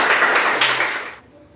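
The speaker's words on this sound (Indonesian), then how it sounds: "Tepuk tangan dulu semuanya." Students clapping together in a classroom, a short burst of fast, overlapping hand claps up close that cuts off abruptly into near silence.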